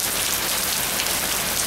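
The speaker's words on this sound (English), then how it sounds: "I had to take this review inside since it started raining." Steady rain falls outside, a dense even hiss of drops on surfaces, heard alone and fairly loud throughout.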